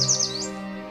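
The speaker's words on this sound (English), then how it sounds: "warblers," A warbler sings a brief, high, sweet phrase with a quick rising and falling trill, heard once and fairly soft against a quiet background.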